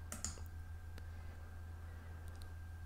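Mouse clicks while navigating Xero accounting software settings: a couple of quick close clicks near the start and another around one second, with faint clicks later over a steady low hum.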